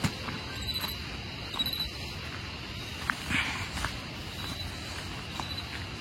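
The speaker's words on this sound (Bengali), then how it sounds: "চারিদিকে বিভিন্ন পশুর এবং ঝিঝি পোকার ডাক।" Crickets chirping at night in the Darjeeling hills near a homestay, a faint high steady trill with scattered soft footsteps and rustles nearby, no talking.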